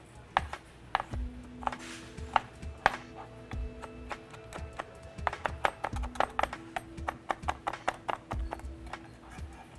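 A knife chops through an ingredient on a cutting board in a poke kitchen, sharp close taps in irregular clusters, fairly quiet, with faint tonal ringing underneath.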